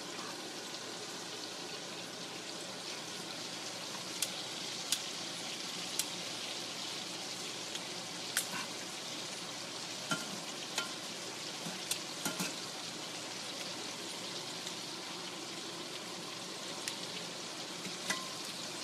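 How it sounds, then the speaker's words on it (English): Shrimp sizzle and fry steadily in a hot pan, with a constant crackle and occasional light clicks and taps as pieces are turned over one by one. "See, our shrimp are starting to slowly cook here. I'm going to take them and flip them over."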